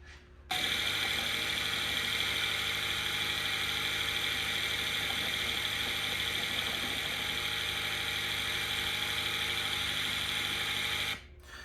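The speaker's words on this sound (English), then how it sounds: "The only other thing we wanna listen to right now is the engine." A Subaru BRZ tS engine idles steadily for about eleven seconds, an even droning rumble with a buzzing vibration, starting and stopping abruptly.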